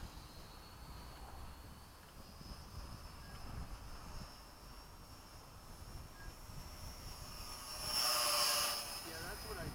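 A mini B-17 radio-controlled four-channel model plane with a built-in gyro drones faintly in the distance with a thin, high whine, growing briefly louder as it passes close near the end.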